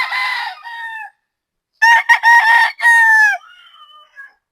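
A three-year-old Boston Gilmore gamefowl rooster crows close and loud in several bursts: a first call, a pause, then a longer broken crow trailing off into a faint final note.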